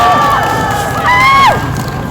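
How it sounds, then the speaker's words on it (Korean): A crowd at a political rally in Korea cheers and applauds with loud, sliding whistles and whoops for a speaker, close and lively for about two seconds. "고교연합 우리 이영규 부회장님의 연설을 큰 박수로 청해듣겠습니다"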